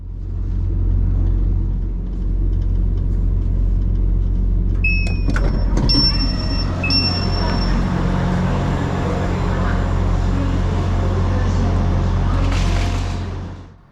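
A Transport for Wales Class 175 diesel train arriving at Cardiff Central, with steady low rumbling throughout, a couple of sharp door chimes and bleeps midway, and the clunk of doors opening before the engine noise fades.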